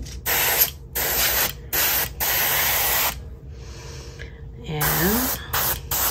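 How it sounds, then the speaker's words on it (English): An Iwata HPCS airbrush sprays paint lightly onto a resin custom dragon crawler swimbait, a close, loud hiss in several short bursts with brief pauses between them. "It's just a light spray. I'm using the Iwata HPCS series."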